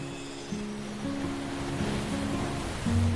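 Ocean waves wash over the Gangeshwar Mahadev seaside temple in Gujarat, a steady surf rush that rises slightly toward the end, with faint low tonal hums beneath and no talking.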